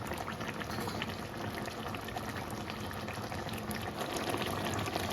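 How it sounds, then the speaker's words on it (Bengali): Potato and shrimp curry (pointed gourd and shrimp) boils in a pot with a steady, close bubbling that stays even from start to finish, with no talking. "আলু সেদ্ধ হয়ে গেছে তাও একটু চিংড়ি মাছ দিয়ে ভালো করে ফুটিয়ে দেবো"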